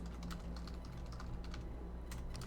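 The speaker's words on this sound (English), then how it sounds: "Y'all have just been hearing me furiously typing." Rapid, furious typing on a computer keyboard, a quick irregular patter of clicks over a low steady room hum, fairly faint and with no talking.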